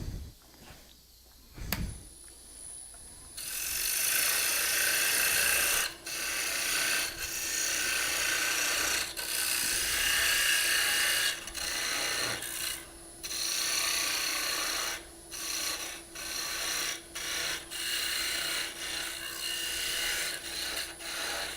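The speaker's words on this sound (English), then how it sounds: "I'm going to go ahead and sand it with the coarse sandpaper" Coarse sandpaper is rubbed by hand over a small wooden ornament with a half-inch hole. A few knocks come first, then long, loud, close rasping strokes run on with brief pauses between them.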